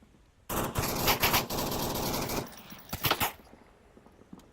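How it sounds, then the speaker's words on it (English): Rapid automatic gunfire in the VR shooter Onward during a competitive VRML league match: a loud, sustained burst lasting about two seconds, then a shorter second volley before it fades. "putting shots onto him"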